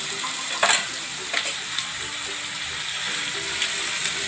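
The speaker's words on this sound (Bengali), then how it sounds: "এবার নাড়িয়ে দেবো" Vegetable peels fry in a pan while being stirred, a loud close sizzle with scraping stir strokes and a few sharper clatters, continuous and without speech.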